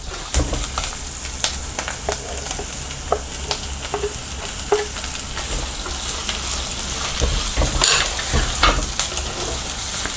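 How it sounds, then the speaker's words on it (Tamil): Onions sauté with rock salt in a pan for a village-style mutton kuzhambu, a close, constant oily sizzle broken by the scrape and clink of a stirring spoon, with no talking. "இப்போ நம்ம கொஞ்சம் கல்லுப்பு போட்டுக்கலாம், நல்லா வதக்கி விடுங்க."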